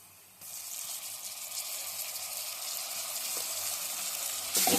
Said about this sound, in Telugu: ఇది పచ్చివాసన పోయేంత వరకు వేపాలి.